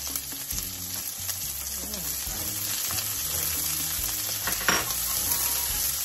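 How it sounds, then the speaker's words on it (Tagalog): Onions fry in a pan for monggo with coconut milk, a continuous soft sizzle with intermittent stirring scrapes and a few light knocks, fairly quiet throughout. "Lagyan na natin yung sibuyas."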